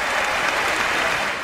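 Dense, steady applause from a large audience in the chamber of Congress during the State of the Union address, loud and continuous with no pauses.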